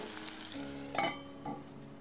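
Onions cook in oil, a soft low sizzle with a couple of brief spoon clinks and scrapes, fairly quiet and close, no talking.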